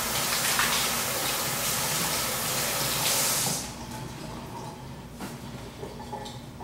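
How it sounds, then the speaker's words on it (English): Hands being washed under a running kitchen tap, with a steady loud gush of water for a few seconds before it is turned down to a quieter trickle with small splashes. "I'm gonna wash my hands off a little bit."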